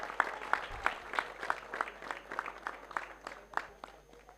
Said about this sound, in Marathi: एकदा जोरदार टाळ्या ऋषिकेशसाठी झाल्या पाहिजेत.